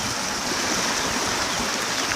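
Creek water swollen after rain rushes steadily over the ground outdoors, a dense continuous wash close by with no pauses and no voices.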